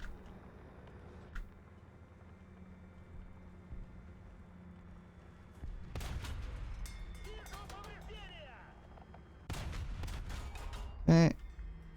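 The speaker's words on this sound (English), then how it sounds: "Is this BMP 2 behind me shooting, shooting his grenade launcher?" A BMP-2 fires its grenade launcher in War Thunder as a burst of sharp shots, then another burst, under the rumble of engine noise, ending on one louder report.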